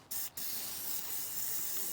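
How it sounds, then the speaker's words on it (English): Short bursts of aerosol anti-rust coating spray hiss close by on a 2012 Ram 1500, two quick puffs followed by one long continuous spray. "Put a little bit of anti-rust coating, spray, whatever, oil"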